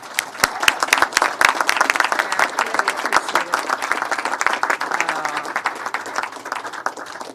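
Audience applause for Massachusetts Governor Maura Healey at a climatetech and life sciences event in Somerville, a steady dense burst of many hands clapping that holds throughout without fading.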